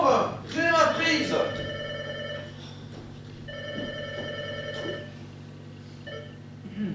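A telephone rings in two clear bursts of a bright, repeating bell tone indoors, with a voice speaking over the start before the ringing continues.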